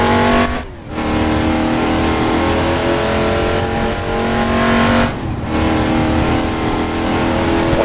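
The engine of a GMC Vandura 1500 van in the Assetto Corsa racing game drones loudly at high revs. It dips briefly twice during gear shifts, then climbs again in a continuous, close engine roar.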